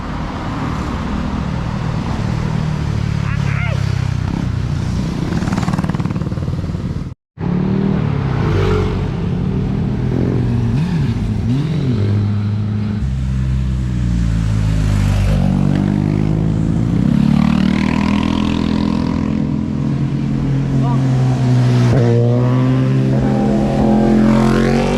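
A motorcycle engine drones steadily and loudly with rising and falling revs while the bike is ridden at speed, with a brief cut in the middle and no talking.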